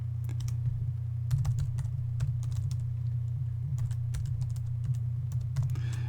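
Rapid typing on a computer keyboard as a command is entered, with irregular bursts of near, crisp key clicks over a steady low electrical hum, no talking.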